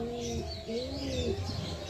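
A pigeon, a Kalsira-type high flyer, coos softly nearby in a few low, rolling bursts, quiet and close.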